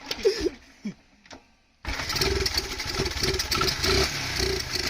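A flooded fuel-injected dirt bike engine sputters with a few weak cranking attempts, then catches into a rough, uneven running idle with rhythmic pulses, close and fairly loud.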